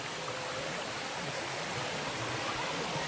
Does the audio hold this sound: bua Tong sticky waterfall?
yes